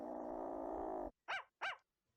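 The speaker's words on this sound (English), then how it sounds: "Is that a little dog?" A small dog in the courtroom video game Ace Attorney: Spirit of Justice gives a steady low growl, then two short, sharp barks after a brief pause, close and clear with no talking.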